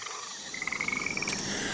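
A frog croaks in a quick pulsed trill of about a dozen rapid notes, moderately loud over a faint background hiss, with no talking.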